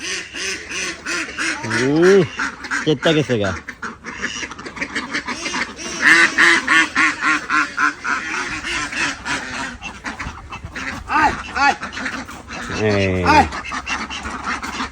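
Domestic ducks quack repeatedly around a village house courtyard while people talk loudly over them, the calls rising in bursts near the start, middle and end.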